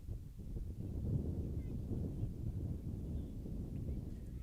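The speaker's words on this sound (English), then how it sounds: "You can hear the wind gusting here at Skyline Field." Wind gusting across an open soccer field during a girls' high school match, a steady low rumbling roar buffeting the microphone throughout, with no clear talk.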